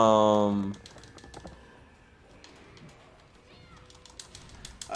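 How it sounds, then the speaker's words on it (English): Computer keyboard typing in the background during a casual live stream: soft, rapid, irregular clicks run faintly for several seconds after a brief louder tonal sound at the start. "I hear frivolous typing in the background."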